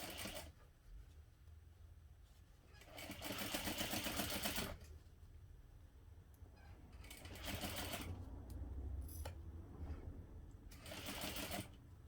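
A sewing machine stitching a backpack seam runs in several bursts of rapid, mechanical whirring, separated by quieter pauses, close and moderately loud.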